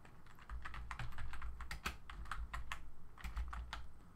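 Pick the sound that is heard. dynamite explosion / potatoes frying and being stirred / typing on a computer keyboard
typing on a computer keyboard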